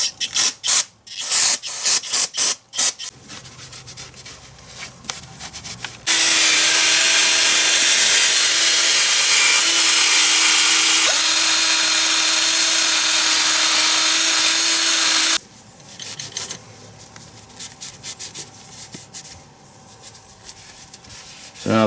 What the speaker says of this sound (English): You got to use some brake cleaner, and we're going to go ahead and brush off as much as we can to clean it